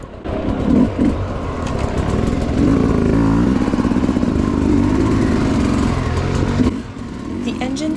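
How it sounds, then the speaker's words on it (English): A 2022 Sherco 250 SE Factory dirt bike engine running steadily and smoothly, loud and close, with a rapid even putter through most of the stretch before easing off near the end. "The engine is very smooth and has more than enough lugging capabilities for the type of riding I do."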